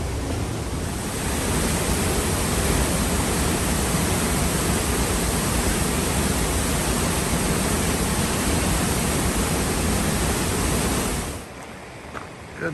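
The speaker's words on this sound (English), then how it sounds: "Now behind the waterfall in the tunnel, coming out the other side." Tunnel Falls on the Eagle Creek trail roars from behind a rock tunnel, a loud, dense, unbroken rush of falling water that fills the space before dropping away sharply near the end.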